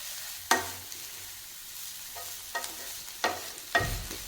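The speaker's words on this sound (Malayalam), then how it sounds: "ഞാൻ ഇളക്കി ഒന്ന് അടച്ച് വെച്ചാൽ മതി" Spoon stirring ash gourd thoran with ground coconut paste in a pan, a few distinct scraping knocks spaced a second or so apart over a faint low sizzle, close and clear.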